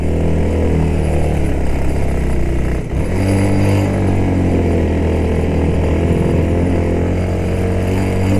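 A motorcycle engine revs loud and close while climbing a steep mountain road at the foot of Mount Halimun near Bogor, with a strong steady drone, a brief dip as the throttle drops, then pulling hard again.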